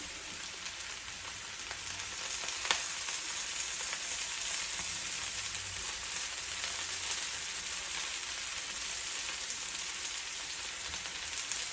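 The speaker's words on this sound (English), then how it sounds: "let me grab my tongs and just kind of move everything around. I'm going to put a little bit more clarified butter over the Brussels sprouts" Chicken breasts and Brussels sprouts sizzle steadily in clarified butter in a pan, a continuous close, even frying hiss with a brief scrape of tongs moving the food around.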